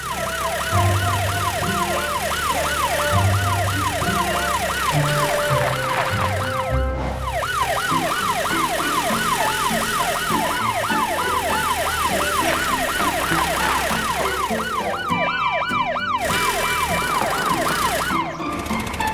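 A cartoon police car siren sweeps up and down continuously and loudly, with a brief break partway through, over faint vehicle rumble.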